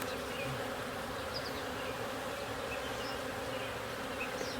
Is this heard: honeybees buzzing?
yes